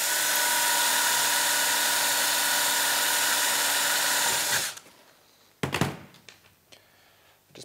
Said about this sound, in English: Now I'm not plunging that drill down too deep